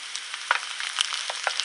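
Shiitake mushrooms sizzle in a pan of olive and sesame oil, a steady close crackle with small pops scattered throughout, heard alone.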